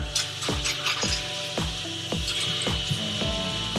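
Hand-sewing of photo zine booklets, thread pulled repeatedly through paper with a steady rhythmic rasping, about every half second, close by and alone.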